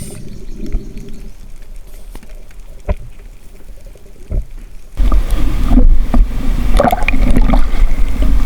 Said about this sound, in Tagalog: Grabe ang alon mga idol.